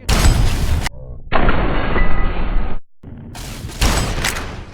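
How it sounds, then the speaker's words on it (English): Shotgun blasts in Fallout New Vegas: three loud, close, booming discharges in quick succession, each trailing a long roaring reverberation, with brief quieter gaps between them. "the repeated shotgun blast reverberating from behind these crates"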